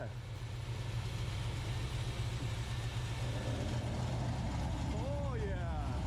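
A supercharged engine idles in a garage, a steady low rumble that holds evenly throughout, with a brief voice near the end.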